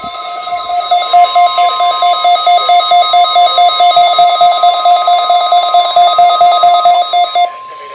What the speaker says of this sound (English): Reception of this broadcast, and especially the warning alarm tone, will vary at any given location.